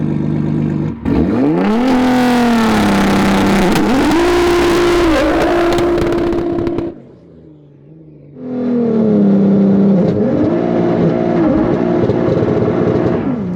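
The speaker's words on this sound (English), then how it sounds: "gonna do a little burnout" A 1500 HP Nissan GT-R doing a burnout, its engine revving hard and loud with rising and falling pitch, cutting briefly to a low idle before screaming up again.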